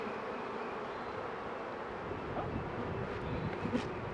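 Honeybees buzzing in a dense, steady hum as they are shaken into a hive split, close by and fairly faint, with light wind noise and occasional soft bumps.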